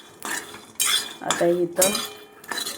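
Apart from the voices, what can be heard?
finely chopping green chilli with knife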